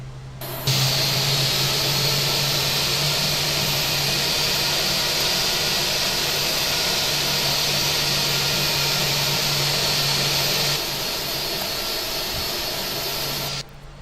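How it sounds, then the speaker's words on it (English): Airbus A320 jet engines in the flight simulator FSX run at a steady, loud roaring whine, a constant broadband rush with a low hum that holds for over ten seconds before the sound drops off. "both the engines have started."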